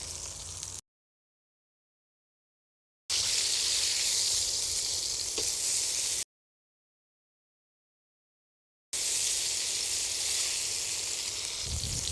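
Beef steak frying in a hot pan, a bright steady sizzle in three bursts separated by stretches of silence, loud and close with no talking.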